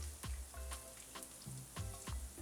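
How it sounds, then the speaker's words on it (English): Garlic frying in a pan for pad Thai gives a faint, steady sizzle and crackle, broken by a few soft knocks and stirring sounds, with no voices. "Here I'm frying up my garlic,"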